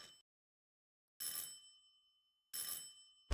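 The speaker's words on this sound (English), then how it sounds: "Somebody just mashing on the doorbell is honestly scarier than anything that's been in this game" A doorbell in the horror video game Silent Hill 4 rings in short repeated bursts, loud and bright, separated by silent gaps as someone presses it again and again.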